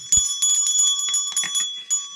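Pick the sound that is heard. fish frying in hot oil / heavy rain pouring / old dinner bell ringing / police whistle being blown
old dinner bell ringing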